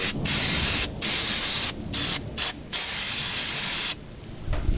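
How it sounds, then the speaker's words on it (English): A sustained pressurized hiss of aerosol brake cleaner sprayed into a Brembo brake caliper on a Nissan 350Z, broken into several bursts of varying length with short pauses between, close and loud. "we're going to use the brake cleaner to clean out the caliper"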